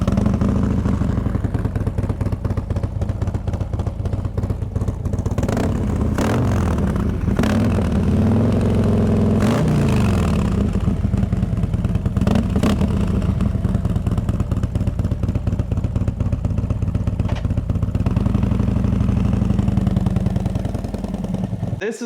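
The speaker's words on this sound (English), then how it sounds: "this is a listen to the exhaust with no Thunder Torque insert in it" A Harley-Davidson Tri-Glide fitted with Tab Performance exhaust and no Thunder Torque insert idles and revs close by, its deep pulsing exhaust rising in several throttle blips over a steady rumble, with faint talk in places.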